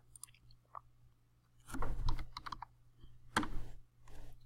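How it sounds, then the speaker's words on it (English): Keystrokes on a computer keyboard while entering a value in CAD software, a few scattered clicks followed by denser clattering bursts of typing, close and fairly quiet, with no talking. "Type it in, hit enter."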